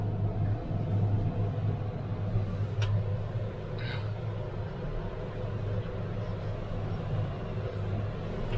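A tractor pulls a grain trailer in reverse across a barley field during the winter barley harvest, its steady low engine rumble continuous and fairly close, with no talk.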